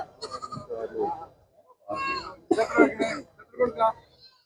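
A native male goat bleats in short, rough bursts at a busy goat market in Malappuram, close and loud, with a few pauses between cries.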